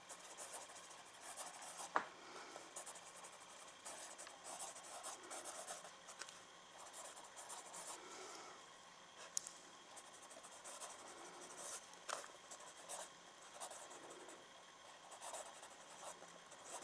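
A red fine liner pen scratches across paper in soft, close, quiet strokes with small irregular taps, continuing steadily throughout with no talking.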